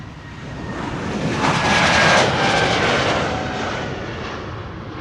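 A jet airliner takes off from a runway at Amsterdam Schiphol Airport, a broad, steady engine roar heard from a distance that swells to a peak midway and then slowly fades.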